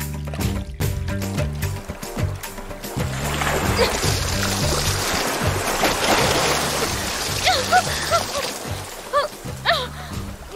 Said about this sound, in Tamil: எதுக்கடி எங்க மேல தண்ணி ஊத்துன?